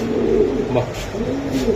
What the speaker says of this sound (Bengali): কবুতর এটা ইয়ং একটা মাদি কবুতর